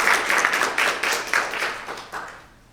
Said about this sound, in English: And another round of applause because she just retired